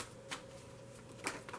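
A tarot card deck being shuffled: two short, crisp riffling bursts, fairly quiet, separated by a near-silent pause, with no talking.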